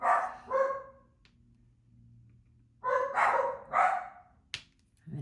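Dogs bark in short bursts, a pair of barks, a pause with a faint low hum, then two more bursts close to the microphone, with a sharp click near the end.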